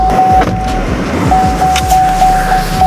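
A Chevrolet Bolt EUV sounds its door-open warning chime, a steady electronic tone that repeats in short pulses inside the car and is loud and close.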